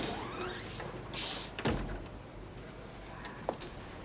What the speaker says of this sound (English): Miss Ferguson, would you mind closing the door?